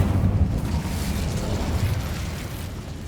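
An Incendio fire spell cast in the Hogwarts Legacy video game bursts with a deep, rumbling whoosh of flame that holds steady and fairly loud for a few seconds.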